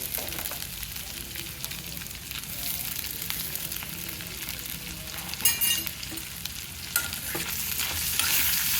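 Poha upma of flattened rice being stirred in a hot pan, a continuous soft sizzle with scraping and rustling strokes of the spoon, close and steady.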